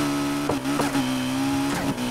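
A Ferrari Pista with a tuned exhaust in the racing game NFS Heat, a loud, steady engine drone with a few quick revving blips and pitch wobbles, heard alone and close.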